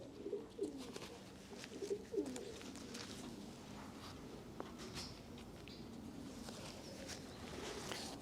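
A medium-sized racing pigeon hen at a Belgian breeding loft gives a couple of soft, low coos early on, then the faint, quiet room ambience continues with light scuffling.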